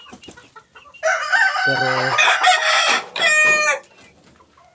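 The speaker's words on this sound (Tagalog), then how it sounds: "yung broodcock ng mga sisiw, yung tatay ng mga sisiw, ito yung kelso natin" A Kelso gamefowl broodcock crows loudly and close, with a long drawn-out call followed by a second shorter crow, and softer clucks before it, with a brief spoken word in the background.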